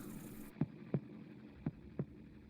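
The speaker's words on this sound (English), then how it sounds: "Listen to that heartbeat." A heartbeat in a played news bumper, four distinct low thumps at an even pace over a faint hum, quiet and alone with no talking.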